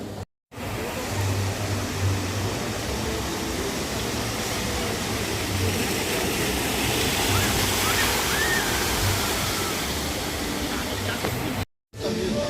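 Rushing, splashing water at a log flume ride in Europa Park, a broad, steady roar that continues for several seconds, framed by brief drops to silence at the start and end.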